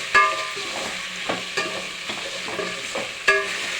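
A spoon stirs a chicken kuska mixture in a pan, with scraping strokes and a few sharper knocks against the pan over a steady sizzle.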